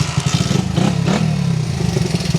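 Restored Honda XR-75 motorcycle engine running on a test ride, a loud, close, rapid chugging idle that swells into a brief rev and then settles back, with no talking.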